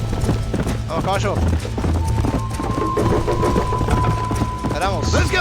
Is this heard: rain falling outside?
no